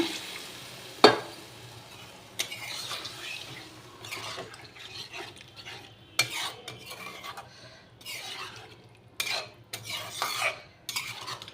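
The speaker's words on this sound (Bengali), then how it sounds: "এটা তেল ছেড়ে দিয়েছে, এবার আমি জল ঢেলে দিলাম।" Water hits hot oil in a cooking pan with a sharp splash, followed by bursts of sizzling and clinks of a spoon against the pan, fairly quiet with no speech.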